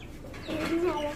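Chickens on a farm give a brief burst of clucking, short rising calls up close, mixed with faint background voices.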